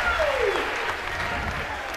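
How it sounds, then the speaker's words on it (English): A crowd at an LSU college softball game cheers and applauds loudly throughout, with a voice talking over the noise. "this crowd is dynamite tonight"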